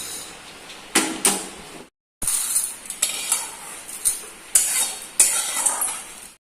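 Roasted browned rice for kheer being scraped out of a pan into a dish, repeated metallic spoon scrapes and clinks in bursts, with a brief silent gap early on.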